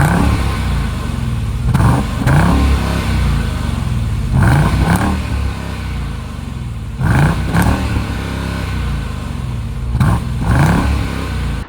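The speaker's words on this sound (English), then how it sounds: "how does this engine sound?" A Jeep Grand Cherokee Trackhawk's supercharged V8 is blipped in short paired revs every few seconds, loud and close, dropping back to a rumbling idle between bursts.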